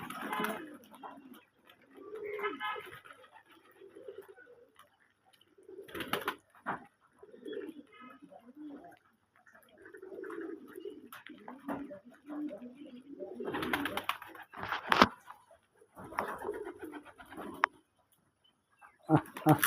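Native desi pigeons coo in low, throaty bursts from a backyard loft, mixed with intermittent talking and a few sharp bangs and rustles nearby.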